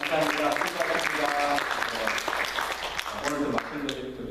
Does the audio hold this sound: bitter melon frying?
no